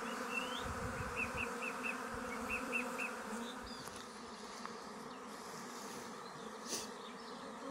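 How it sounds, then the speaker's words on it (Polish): A honeybee swarm, shaken down and settled into a swarm box, hums as a dense continuous buzz outdoors, with faint bird chirps in the background. "Rój, który został wstrząśnięty i osadzony do rojnicy. Pszczółki wchodzą."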